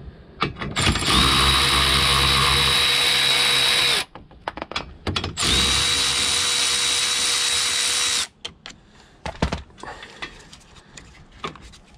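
A power tool with a Torx 16 socket undoes crossmember bolts on a Peugeot 207 1.4 HDi, whirring loudly and close in two sustained bursts of a few seconds each, separated by clanks and rattling tool handling.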